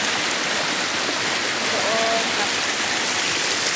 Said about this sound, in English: Ng Woolshed Waterfall. Ayan. Pababa po yung tubig niyan hanggang doon.